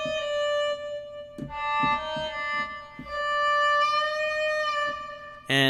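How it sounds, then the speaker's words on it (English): One sustained double bass note from the Sakura plugin is bent up and down in pitch over a few seconds, with soft plucked accents underneath, ending in a brief sharp burst. "I'm basically playing one note, but I'm shifting the pitch to make it sound like this."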